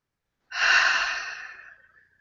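A single long, breathy exhale through an open mouth. It starts strongly after a moment of silence and slowly fades out.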